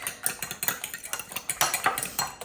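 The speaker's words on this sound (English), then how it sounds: "whisk." Rapid, rhythmic clinking of a whisk beating an egg with a pinch of salt and a drop of water in a bowl, close and steady, with no talking.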